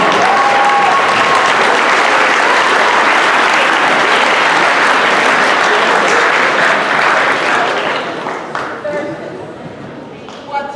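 A school assembly crowd applauds students of the month with loud, sustained clapping that fills most of the stretch and then thins out near the end, where a few voices come through.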